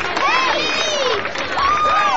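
A crowd cheers and applauds as a singer is introduced, with excited shouting voices over steady clapping through the whole stretch.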